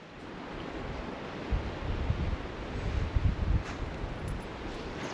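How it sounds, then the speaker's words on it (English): Stiff morning wind beside the ocean, with surf washing in as a steady low roar and gusts buffeting the microphone, no voices. "it is windy out here beside the ocean this morning"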